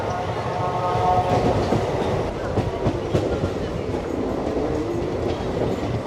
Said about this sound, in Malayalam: അപ്പം നമ്മളങ്ങനെ കാസർഗോഡ് റെയിൽവേ സ്റ്റേഷനിലോട്ട് പ്രവേശിക്കുന്നു